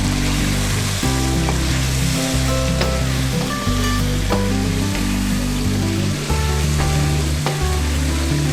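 Chicken and green chickpeas with turmeric sauté in a pan, giving a loud, steady sizzle and fry with intermittent scraping stir sounds, close up and with no talking.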